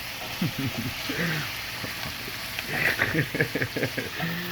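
Leftover curried rice sautés in a pan with a soft, steady sizzle and light crackle, mostly under a person talking close by.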